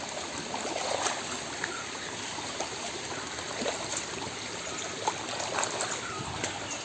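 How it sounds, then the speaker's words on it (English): Water trickles and babbles steadily under a bridge, a continuous gentle stream with small splashes and no voices. "there's water here"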